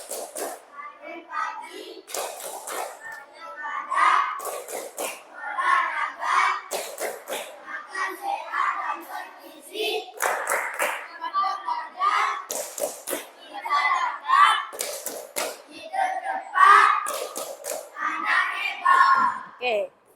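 Classroom group of children doing the rhythmic clapping game 'tepuk anak hebat', bursts of patterned claps alternating with chanted voices, lively and close, ending as a teacher speaks.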